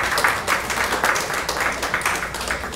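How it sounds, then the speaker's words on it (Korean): A church congregation at Sunday worship applauds to welcome a returning member, a dense, continuous patter of many hands clapping close by with steady energy throughout. "오랜만에 우리 수현이가 또 예배에 참석했는데 건강한 모습으로 오게 된 것 우리가 박수로 환영하겠습니다."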